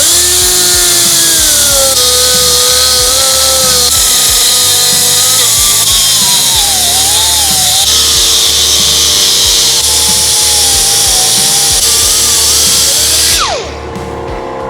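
Loud, continuous power tool cutting into the metal of a Harley-Davidson Sportster during a flat track conversion, a steady high-pitched grinding whine with shifting pitch lasting about thirteen seconds before cutting off abruptly.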